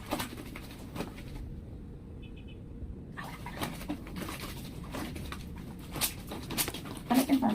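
Pigeon-like bird calls on a laundry day, soft coos and chirps scattered over a continuous background hiss, with a brief quieter pause partway through and a slightly louder burst near the end.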